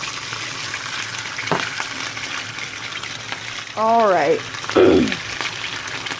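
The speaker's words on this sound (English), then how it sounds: "So it's sizzling from the get." Turkey bacon sizzles in a hot pan at breakfast, giving a steady close frying hiss with a few brief clatters, while a person talks briefly over it.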